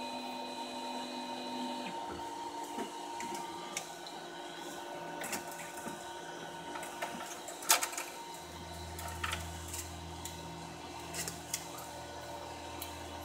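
3D printer carriage being lowered, faint whirring motor tones that shift pitch in stages, with scattered small clicks and clacks throughout.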